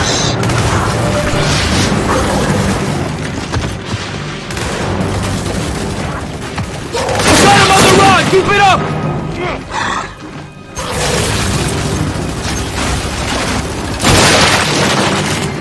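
Enemy gunfire and heavy booming blasts in Gears 5 form a loud, continuous barrage of crashes and metallic clatter, with short lulls between dense bursts and game voices now and then.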